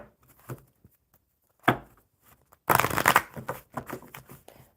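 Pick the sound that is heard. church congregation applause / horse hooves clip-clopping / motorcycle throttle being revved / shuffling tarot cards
shuffling tarot cards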